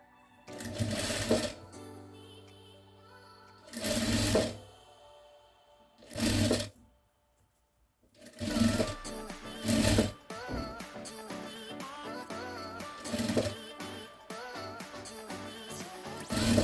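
A sewing machine stitches a jute placemat in loud repeated bursts, short runs of a second or so broken by pauses, then a longer spell of stitching with a busy mechanical whir near the end.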